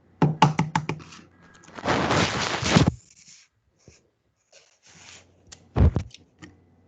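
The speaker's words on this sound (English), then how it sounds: "Got an egg here. I'm gonna crack it in a container." An egg is tapped and cracked into a container in a kitchen. A few sharp knocks are followed by a crunchy break, then quieter taps and a final thunk.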